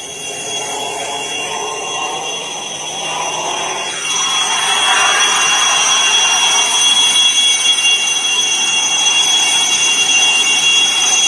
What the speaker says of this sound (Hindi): लगातार आप देख सकते हैं हेलीकॉप्टर से यहां पर पहुंचते हुए